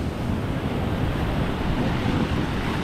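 Rough sea waves crash and churn in a dense, continuous roar of surf mixed with wind buffeting the microphone, loud and close throughout.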